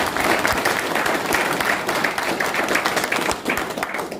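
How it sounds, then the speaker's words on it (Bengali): Audience at a Moringo Organics workshop in Mirik giving a hearty round of applause, dense, continuous clapping from a room of people at close range, sustained for several seconds without a break. "তাদের জন্য একটা ভারী হাততালি হবে"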